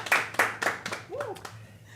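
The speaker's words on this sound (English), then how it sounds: "Round of applause for her." Audience clapping at a regional broadcast event: a few loud, distinct claps close by in the first second, then thinning out as a voice speaks.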